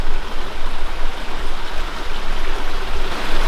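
Water flows steadily beside a riverbank near an old priory at night, a constant close rushing and burbling that fills the whole stretch with no voices over it.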